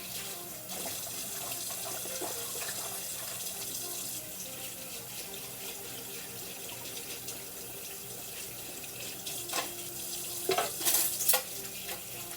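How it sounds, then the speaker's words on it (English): Tap water runs steadily into a kitchen sink while hands are rinsed after making deviled eggs, a continuous hiss with a few louder splashes near the end, no talking. "I'm gonna rinse my hands here. Wash my hands real fast."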